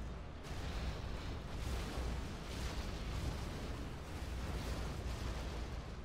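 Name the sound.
Scud Storm missile strike explosions in Generals Zero Hour video game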